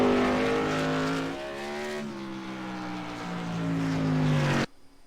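A race car on the Lanier track passes with a loud, sustained engine drone whose pitch shifts through gear changes, fading slightly and then cutting off sharply near the end.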